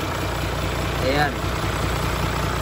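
An Isuzu Forward dropside truck's diesel engine idles steadily nearby, a constant low rumble with a faint voice briefly audible over it.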